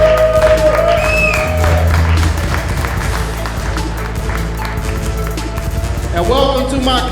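A comedy club audience at the Luchadome applauds and cheers for comedian James R. Hustle, a dense steady wash of clapping with whoops and crowd noise, while an amplified voice and music cut through near the end.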